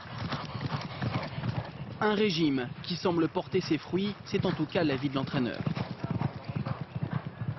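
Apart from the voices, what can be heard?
racehorse hooves clip-clopping while walking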